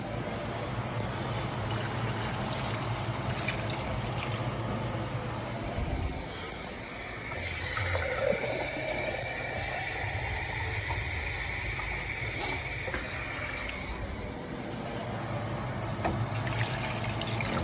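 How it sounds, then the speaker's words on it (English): Water poured steadily into a pot for chicken gumbo, a continuous trickling splash heard up close, running on with little break. "Keep pouring water in."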